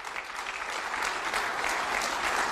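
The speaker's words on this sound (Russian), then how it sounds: "Зрители аплодируют, аплодируют." An audience applauds a speech on defense and deterrence with a dense, steady wash of clapping that stays even throughout.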